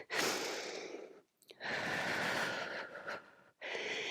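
A deep, slow exhale during a workout's goddess squat, breathy and close, followed by a second long breath after a short pause and the start of a third.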